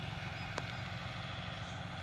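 A CRDI 56B four-wheel-drive tractor runs with a 15-tine cultivator, its engine a continuous low, throbbing drone at steady level with no voices.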